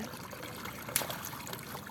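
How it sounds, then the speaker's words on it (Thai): Water trickles steadily through a leak in a small earthen check dam in the forest, a close, continuous watery hiss with a brief splash partway through and no talking. "เริ่มมีเสียงน้ำแล้วค่ะ"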